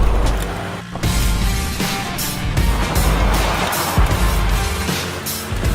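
A 2018 Ford Ranger pickup truck climbs a hill, its engine a steady, close, loud drone with rumbling low end and some clattering texture running continuously throughout.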